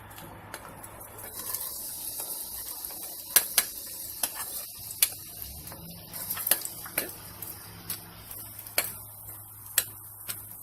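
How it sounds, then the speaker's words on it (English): Onions go into a hot pan to caramelize for a zucchini pasta with walnut mock meat, giving a soft steady sizzle punctuated by sharp clicks and taps of a utensil against the pan, with no talking. "now I'm going to add my onions"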